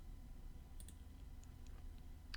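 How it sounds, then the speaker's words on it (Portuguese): A couple of faint, quick mouse clicks over a low steady room hum, sparse and close, with no voices. "Então, eu vou clicar em inserir."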